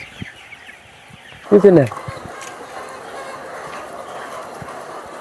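White laying hens on a poultry farm give a short burst of loud clucking, then the flock settles into a low background murmur while someone speaks briefly.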